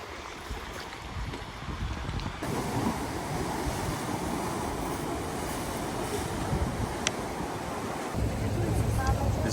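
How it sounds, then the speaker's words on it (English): Outdoor waterfront ambience at a Cinque Terre harbor in Italy, with steady wind buffeting and lapping water as a boat draws near, its engine a low rumble beneath the noise. "This boat is arriving here."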